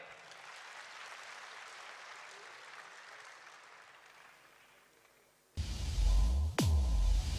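Audience at a World Environment Day ceremony in Islamabad bursting into loud sustained applause after quieter crowd noise, clapping dense and close, with a sharp whistle-like tone sweeping through midway.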